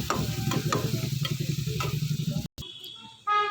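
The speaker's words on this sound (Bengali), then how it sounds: "এই পেঁয়াজটা যতক্ষণ ভাজা হচ্ছে" Onions frying in oil in a pan for egg curry, a close, busy crackling sizzle with rhythmic stirring scrapes for a couple of seconds before it cuts off, followed by a brief different kitchen sound.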